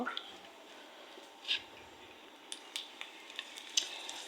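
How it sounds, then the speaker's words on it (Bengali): Pangas fish fry in hot oil in a wok, giving a soft, steady hiss with scattered small pops and crackles, fairly faint throughout. "তেলটা গরম হয়েছে পরে মাছগুলো দিয়ে ভালো করে বাইজে নেব"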